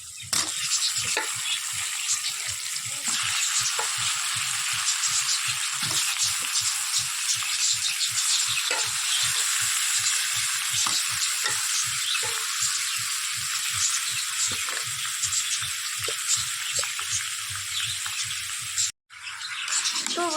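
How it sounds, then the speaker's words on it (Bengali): Chicken pieces fry noisily in a pan with fried potatoes, a dense continuous sizzle with rapid crackling and spatter, close and loud, briefly cutting out near the end, with no talk. "মাংসটা দিয়ে দিয়েছি এবার এটাকে সুন্দর করে একটু কষিয়ে নিই"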